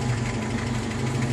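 A 1982 Toyota four-wheel drive with a 22R engine running steadily at idle with a knocking fault, a continuous close low rumble with a fine rhythmic ticking throughout.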